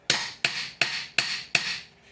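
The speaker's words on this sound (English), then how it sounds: "As you shove it under, you want to hammer it in even more." Five sharp, evenly spaced metal hammer blows ring out as a split rim ring is driven onto an old Toyota wheel, each strike loud and close with a short ringing decay.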